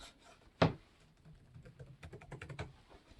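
Typing on the keyboard of an Acer Aspire 5 laptop with AMD Ryzen and Radeon, a sharp key thump then a run of quick, light clicks and taps, close and alone.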